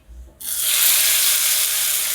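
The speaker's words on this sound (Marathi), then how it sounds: "आता हे फोडणी घालते, फोडणी देते." Hot oil tempering with mustard seeds, curry leaves and asafoetida, poured over a raw mango chutney, erupts into a loud, sharp sizzle that starts abruptly and then hisses steadily close by.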